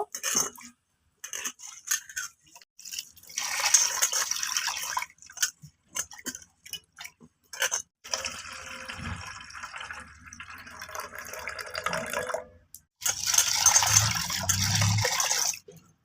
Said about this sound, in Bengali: এবার ডালটাকে আমি তিন চারবার জল পাল্টে পাল্টে ভালো করে ধুয়ে নেব